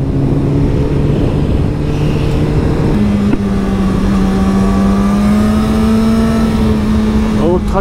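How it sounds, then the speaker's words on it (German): A tractor rolls past on a scenic country road, its low engine drone steady and loud from close by, heard over a motorcycle's running engine and wind. "Oh, Traktor."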